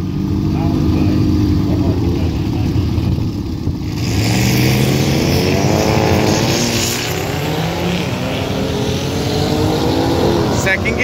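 A 650 hp Honda Integra engine runs hard on a track pass in Florida, a loud continuous roar with rising and falling gear sweeps, wind rushing throughout.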